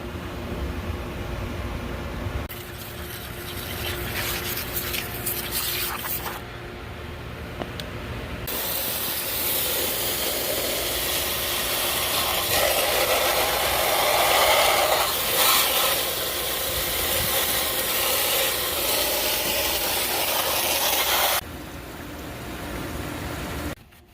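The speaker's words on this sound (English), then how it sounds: "Just going to spray this in there and then I'll hose it down." Degreaser sprayed onto a dirty, corroded AC evaporator coil and then hosed down, giving a steady, close broadband hiss and rush of spray and water that runs continuously with brief pauses and shifts in intensity.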